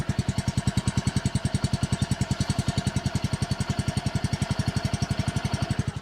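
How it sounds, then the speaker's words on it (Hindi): A Yamaha Fascino 125 scooter idles close up, its single-cylinder engine putting out a steady, rapid, even putter that holds at a constant pace and loudness throughout, with no voices. "तो आइडल कंडीशन में जब आप स्कूटर को ऑन करेंगे तो ये आवाज़ आएगी"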